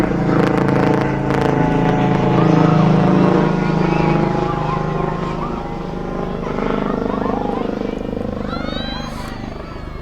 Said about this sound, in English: I think I hear a helicopter.